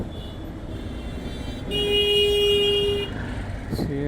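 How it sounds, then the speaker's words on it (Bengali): A motorbike horn sounds once as a single steady tone lasting just over a second, set against low background noise from the road. "কীভাবে হর্ন দেয়,"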